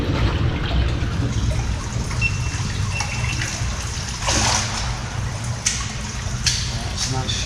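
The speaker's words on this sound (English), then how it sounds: "there's water coming in" Rainwater trickles and splashes into an underground culvert tunnel of an old ironworks in Greater Manchester, making a steady, echoing wash of water. Faint drips and brief splashes sit on top of it.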